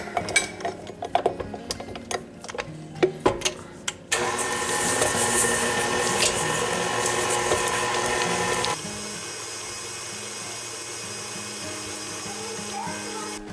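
Electric mixer beating softened cream cheese and sugar in a bowl, starting with clattering knocks, then a steady close whirring motor that drops to a lower, quieter hum partway through.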